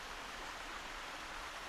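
Water running over carved rock into a small brook at a waterfall, a faint steady rushing hiss without pauses or voices.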